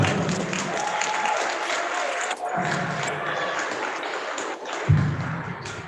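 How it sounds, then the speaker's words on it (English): A basketball arena crowd applauds at a TSU pregame ceremony honoring the professor of the game, with a sustained roar of clapping that swells again near the end and faint talk underneath. "give a warm round of applause to today's professor of the game, Professor Vera Watson"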